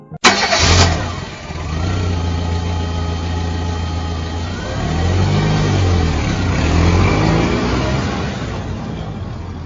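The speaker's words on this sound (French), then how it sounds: "referma la portière sans bruit et mit le moteur en marche." A car engine cranks briefly, then catches and settles into a steady, close idle that swells slightly midway, with no voices.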